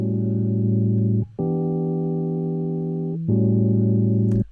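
A bass track in Logic Pro X plays with its distortion switched off, giving sustained, clean, buzzy low notes that shift pitch twice and ring out steadily, fairly loud and alone.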